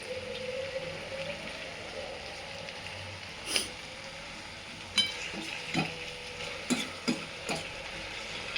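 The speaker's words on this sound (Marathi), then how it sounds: "मोठ्या गॅसवरतीच सगळं परतून घ्यायचं आहे" Capsicum being stir-fried over a high flame for paneer chilli, a continuous loud sizzle with sharp scraping clicks of a spatula against the pan at irregular intervals, close up and with no voices.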